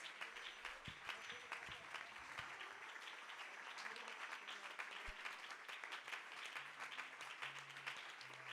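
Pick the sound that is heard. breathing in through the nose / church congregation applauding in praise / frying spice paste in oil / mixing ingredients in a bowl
church congregation applauding in praise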